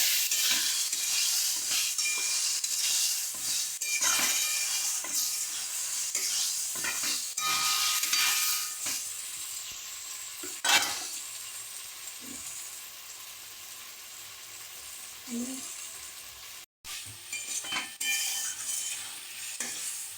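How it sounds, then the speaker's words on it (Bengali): Marinated chicken sautéing with spices in a pan, a continuous close sizzle punctuated by rhythmic spatula scrapes and stirs, with a brief clatter near the end. "আর একটু বেশিক্ষণ ধরে কষালে মাংসটা খেতে ভালো লাগবে"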